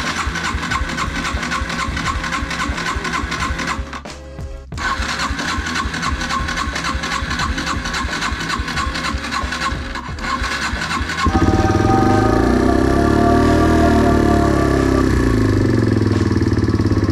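A Yamaha TW 125 motorcycle engine runs steadily in a forest setting, a close, continuous mechanical drone that briefly dips and then grows louder and fuller near the end, with no talking.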